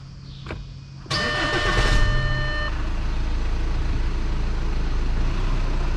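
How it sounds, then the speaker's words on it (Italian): Audi A4 B8 diesel engine starting after a fuel filter replacement: a short electrical chirp, then the starter cranks and the engine catches and settles into a loud, steady idle close by. "andiamo a fare l'avviamento, il primo avviamento dopo la sostituzione del filtro gasolio."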